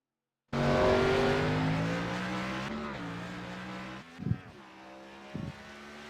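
A race car at the Richmond track rolls out, its loud engine holding a steady drone for several seconds before easing off, followed by two short bursts of revving further along.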